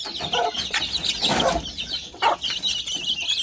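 Close-up chickens clucking and squawking in short, irregular bursts, several birds calling over one another.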